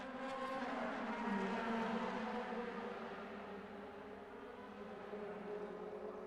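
DTM touring cars racing at the Moscow circuit, engines roaring together in a loud, continuous, fairly close drone that swells and eases slightly as the pack passes, with no talk over it.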